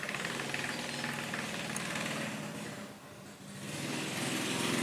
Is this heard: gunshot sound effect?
no